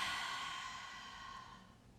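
During a yoga breathing exercise, a person lets out one long, soft breath through an open mouth. It is close and quiet, fades steadily over about two seconds and has no talking around it.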